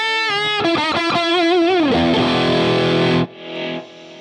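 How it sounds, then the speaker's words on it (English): Electric guitar through a Friedman BE-Mini amp head, boosted by a Strymon Riverside set as a clean boost with gain down and level up: loud, saturated chopped notes and a vibrato-laden bend ringing into a sustained chord, then a short fading tail. "let me set it up as a kind of clean boost, so I'll drop gain all the way and put level all the way up."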